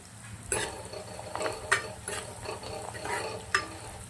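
Carrots roasting in ghee in a pan, with soft sizzling frying noise throughout and several brief stirring scrapes and pan clinks at irregular intervals, close and moderately quiet.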